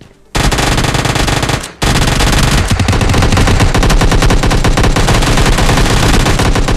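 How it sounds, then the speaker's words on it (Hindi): Loud automatic gunfire roars in a PUBG Lite match, with one sustained burst, a brief gap, then a long unbroken stream of rapid shots close up and with no voices over it. "अपने यहाँ पे गोलियां चल रही हैं"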